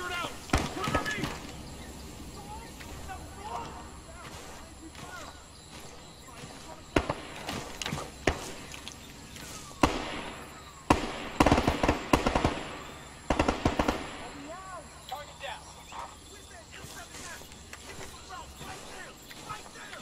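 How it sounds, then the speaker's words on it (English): Sniper and other gunfire in the military video game ARMA 3 during a capture-the-flag match, with bursts of sharp cracks and rapid volleys scattered through the stretch over a continuous rumble, while players talk throughout. "I hear a sniper."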